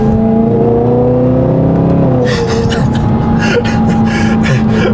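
A supercharged BMW M3 pulls hard under full throttle from third gear, a loud close engine roar with a high supercharger whine rising over it and a voice reacting during the pull.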